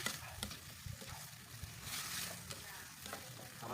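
Close, soft scraping of a utensil stirring a sauce thickened with cornstarch and water in a frying pan, with a light sizzle and quiet clinks throughout, no talking.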